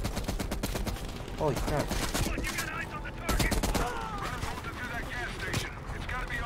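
Shotgun blasts and other gunfire in the Black Ops Cold War campaign, loud and repeated over a dense battle din, with someone talking over the shooting.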